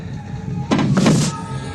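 A spaceship door on the Nostromo in the film Alien slides open with a sudden hissing, mechanical rush that swells and fades over about half a second against a low hum.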